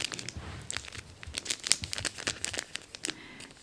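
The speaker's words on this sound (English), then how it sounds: "I love the sound of the crinkles" Crinkly packaging from a box being crumpled close up, a quiet stream of irregular crackles and sharp rustling snaps with no talking.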